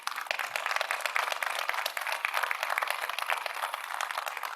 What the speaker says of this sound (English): Let's please give them a warm round of applause.